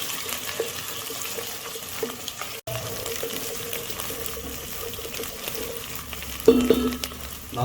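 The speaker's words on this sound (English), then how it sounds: "add ginger and garlic and green chili. We will saute for about 30 seconds." Ginger, garlic and green chili sauté in a hot pan for a fish curry, giving a steady close sizzle with a brief interruption and a louder stirring clatter near the end.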